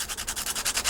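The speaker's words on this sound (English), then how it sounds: "we just need a nice kind of coarse sanding stick, and we just kind of sand that down" Coarse sanding stick rubbing down a small part of a 1/48 scale HobbyBoss F-14D Super Tomcat model kit, a close, steady rhythm of about ten quick rasping back-and-forth strokes.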